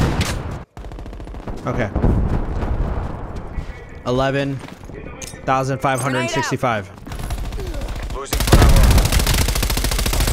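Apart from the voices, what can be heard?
enemy turret firing in Call of Duty: Black Ops Cold War video game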